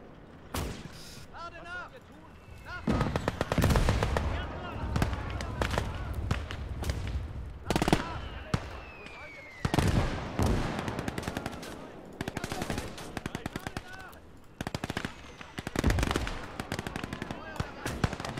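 Mortar fire and explosions in the war game Gates of Hell, with bursts of rapid gunfire, heavy blasts and rumbling impacts at varying distances, under and between a player's excited talk.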